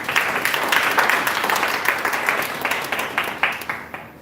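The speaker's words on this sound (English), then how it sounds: "Let us give them another hand of applause." Applause from the audience at a Teach for Liberia fellows' graduation ceremony: dense, steady clapping that stays fairly loud for about four seconds and then thins out toward the end.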